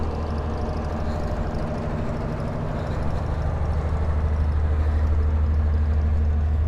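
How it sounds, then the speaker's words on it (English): Generator running near a loch-side walk by the locks at Fort Augustus, a steady loud low hum that swells slightly, with no speech. "So it's just the noise of the generator."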